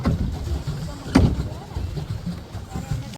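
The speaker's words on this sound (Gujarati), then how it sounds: "જો અમે ચલાવી રહેલા છે બોટ." A small boat is rowed on a lake at Saputara, Gujarat, with a soft splash of an oar near the middle over low wind rumble and faint background voices.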